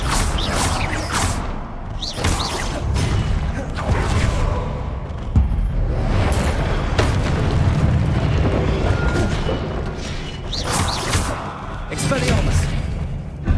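Spell casting in Hogwarts Legacy, heavy booming magical blasts and thuds repeating through a loud, dense game soundscape, with bursts every few seconds over continuous rumble.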